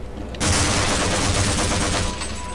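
A sudden loud burst of sustained rapid gunfire in Half-Life starts abruptly and rattles on continuously for about two seconds, harsh and close, with no voices.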